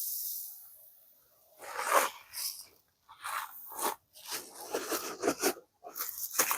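Urea fertilizer granules pour out in several rattling, crunchy bursts separated by short pauses, close and fairly soft.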